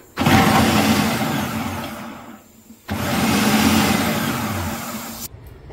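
An electric chopper whirs as it cuts onion and tomato, running in two loud motor bursts of about two seconds each, with a brief near-silent pause between them and a sudden stop at the end.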